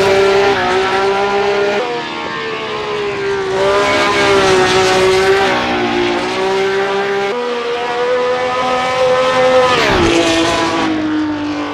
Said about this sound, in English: Such a huge challenge to muscle this massively powerful IndyCar around here